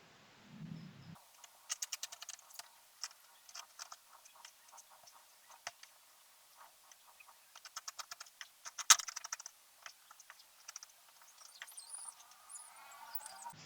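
Scissors cutting out marked fabric pieces for a lunch bag, quiet close-up snips and crisp clicks in irregular bursts, with near-silent gaps between cuts.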